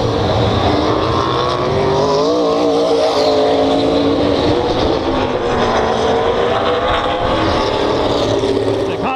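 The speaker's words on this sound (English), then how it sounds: "The hot lap session going on right now in the afternoon." Race cars running hot laps at Madera Speedway, a steady loud roar of engines droning past throughout with no pause.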